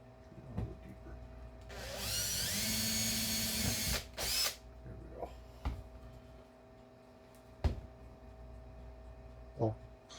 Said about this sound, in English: I drilled in deeper than I normally do